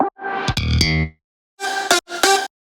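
Slap bass line from a track, shaped by a filter cut and volume automation, heard as a bright, punchy burst of plucked notes, a pause, then two more loud electronic phrases with sharp attacks.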